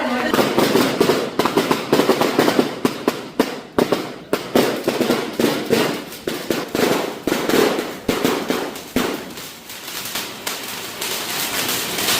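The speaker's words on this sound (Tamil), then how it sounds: "பட்டாசுலாம் கொடுத்துறாங்க" Rapid strings of firecrackers crackle and pop nonstop, loud and close, a dense rattling barrage that keeps going for several seconds.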